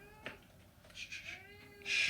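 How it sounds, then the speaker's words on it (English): A cat meows repeatedly somewhere in a room, soft and a little distant, with a few short plaintive calls that end in a louder, more insistent meow. "Do you hear that in the background? Yeah, it's great. Cat. Adorable."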